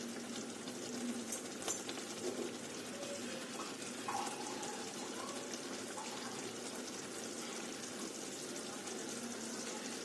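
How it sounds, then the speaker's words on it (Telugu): Faint, steady trickle of water being poured, with low background noise and no clear speech. "నేనైతే ఒక గ్లాస్ వాటర్ పోసుకుంటున్నాను"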